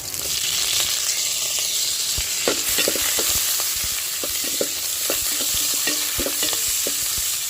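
Curry leaves crackle and sizzle in hot oil for pulihora cooked on a wood-fired stove, a dense continuous hiss broken by frequent sharp pops and stirring taps, close and steady, with no talking.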